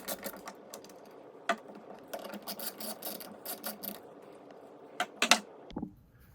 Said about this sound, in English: using a Torx 25 driver, remove the 3 screws on the bottom of the mirror arm